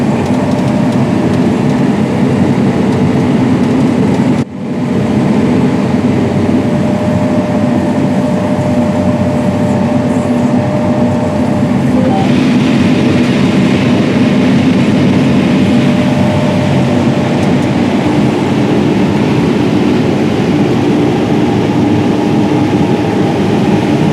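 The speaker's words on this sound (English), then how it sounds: "In the cab of a model year 2019 John Deere S790 Combine" Inside the cab of a 2019 John Deere S790 combine on tracks, harvesting corn with a 24-row head, a loud, steady low engine drone and mechanical rumble continues unbroken, with one brief dip near the start.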